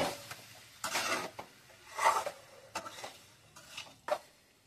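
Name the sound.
stirring and mixing flour pasta in a pot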